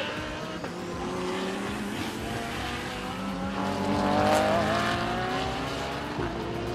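Race cars on track at Sepang International Circuit, Malaysia, produce a continuous engine drone with tonal whine that swells around the middle as a car passes close, under a wide track ambience.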